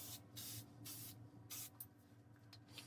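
L'Oreal makeup setting spray misted in several short, soft hissing spritzes in quick succession, close and quiet with no talking.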